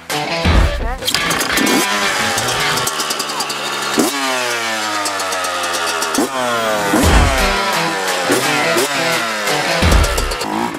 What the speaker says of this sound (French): est-ce que je vais réussir à kicker la moto